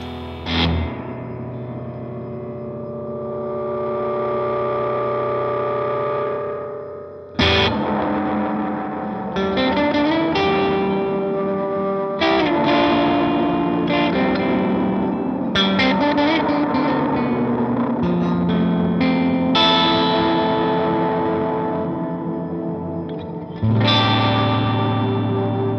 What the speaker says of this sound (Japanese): こういうサウンドも出せるようになっているスプリングリバーブユニットです。